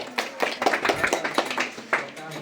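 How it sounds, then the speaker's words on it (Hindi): A live audience claps for children at a school teaching-aid fair, with a brief burst of applause that has a steady, dense patter of hand claps. "इसके लिए हम चाहते हैं एक बार जोरदार ताली हम लोग की तरफ से हो जाए"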